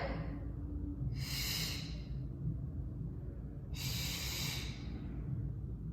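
Two slow, deep breaths during a beginner yoga flow, each a soft airy rush over steady low room noise, with no talking.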